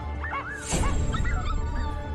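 A litter of young puppies yaps and yips in a short, busy burst, with overlapping high barks and a few whimpers close by and no one talking.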